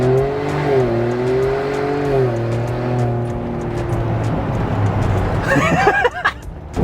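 A 2022 Ford Bronco fitted with a Whipple Tomahawk supercharger idles with a steady, wavering engine drone before it suddenly revs hard into a loud burnout near the end, with a rising roar.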